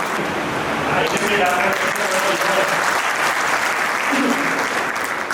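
Loud, sustained applause fills a ceremony hall at an LIC branch celebration, with a dense crowd clapping evenly throughout and no break.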